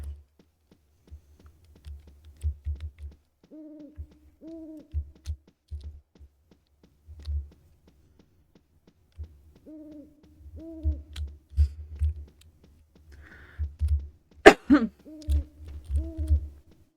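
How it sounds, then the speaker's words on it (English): In the farming video game Harvest Moon Magical Melody, an owl hoots in repeated two-note pairs, clear and fairly close, among soft scattered clicks and taps. "Where'd Mr. Owl go?"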